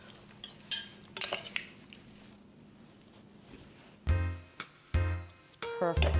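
Julienned corn salad tossed in a bowl, with several sharp clinks and scrapes of utensils against the dish in quick bursts near the end, close up; a voice speaks briefly.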